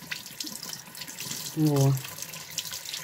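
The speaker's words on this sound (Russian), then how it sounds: "я еще попробовала водой. А водой, видите, комок этот тает." Water from a tap runs briefly over a lump of snow, a short close splashing stream lasting about half a second, with a woman's brief word just before.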